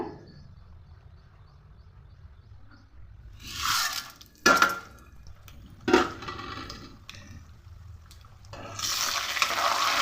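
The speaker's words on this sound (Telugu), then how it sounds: "ఇప్పుడు తాలింపులు అయితే వేసుకుంటున్నాను." Tempering spices dropped into hot oil for semiya upma: quiet low crackle, then bursts of bright sizzling and stirring that swell and fade, ending in a sustained hiss of frying, with no talk.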